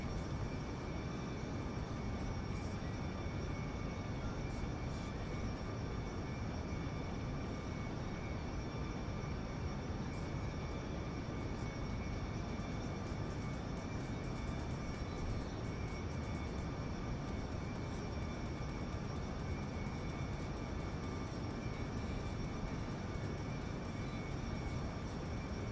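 Steady, continuous engine drone of an aircraft in Kerbal Space Program, a constant broadband roar with faint tonal hum holding level throughout, no voices.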